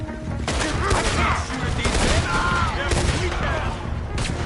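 Gunfire rings out in the video game Red Dead Redemption 2 as a dense volley of overlapping shots with echoing tails, loud and sustained across a chaotic fight, with shouted voices mixed in.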